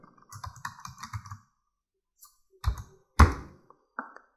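Computer keyboard keys tapped while entering a password, a quick run of light clicks followed by a few separate heavier taps, close and fairly quiet with no talking.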